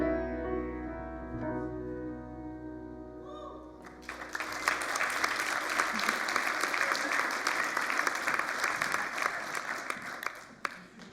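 A church congregation at Unity of Boulder applauds the music: a held musical tone fades out, then loud, steady clapping bursts in and carries on for about seven seconds.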